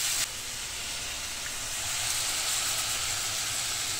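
Tomato pieces fry in a pan for a South Indian bisi bele bath, giving off a steady, bright, close hiss that holds evenly throughout.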